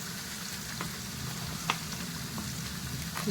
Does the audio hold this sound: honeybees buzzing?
no